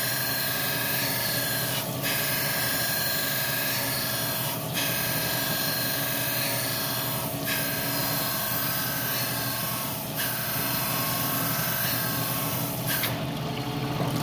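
Metal billet being rough-ground against a tracking wheel on a grinder, a loud continuous rasping whine with brief dips roughly every few seconds as the workpiece is repositioned.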